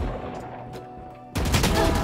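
In Valorant, a sudden loud burst of gunfire cuts in after a quieter stretch of game ambience and continues as a dense, close volley to the end.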